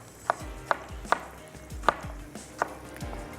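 A knife slices cucumbers on a cutting board for quick pickles, six crisp evenly spaced chops ringing close and clear with no talk.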